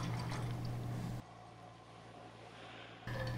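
Water poured into paint in a bucket while preparing it for a HomeRight Super Finish Max sprayer, a steady liquid pour heard close and fairly quiet, with a low background hum throughout and no speech.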